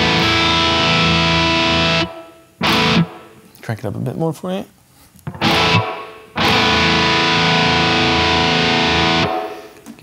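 Electric guitar played through a Line 6 Spider IV 15-watt amp with the reverb effect engaged, loud sustained chords ringing out with a wash of tail, broken by a short spoken passage in the middle.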